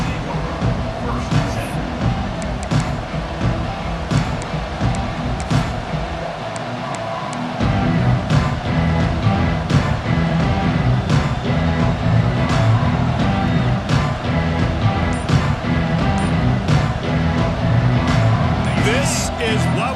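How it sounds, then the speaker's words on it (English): Stadium crowd at a college football game in a video game, a broad steady roar of massed voices that swells louder about midway and stays up, with a commentator talking over it. "This crowd ready to make its presence known."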